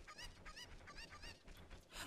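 Chicken clucks in the video game The Legend of Zelda: Ocarina of Time, a busy run of repeated squawking calls at a steady level over a dense game background.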